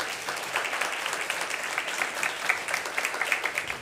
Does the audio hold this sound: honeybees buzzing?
no